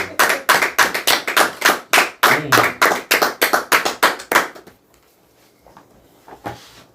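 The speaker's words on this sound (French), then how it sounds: "Applaudissons pour elle." About twenty sharp claps in a quick, uneven rhythm, loud and close, then near silence with a couple of faint taps.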